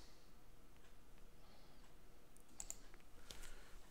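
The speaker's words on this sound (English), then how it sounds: "Put our password in." Someone types a password on a computer keyboard at a Linux Mint login screen: a quiet run of soft, close keystrokes with irregular rhythm and a few brief clicks.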